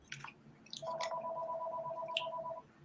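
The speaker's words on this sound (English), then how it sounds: "Somebody got a phone ringing?" A phone rings with a steady two-tone electronic trill lasting under two seconds, fairly faint in a quiet room, with a few short clicks and knocks around it.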